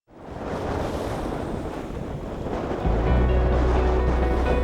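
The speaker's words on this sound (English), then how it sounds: "It's gonna be pretty tricky to canoe in these waves" Rough waves churn on open water while strong wind roars across the microphone, a dense, loud, continuous wash with no voices.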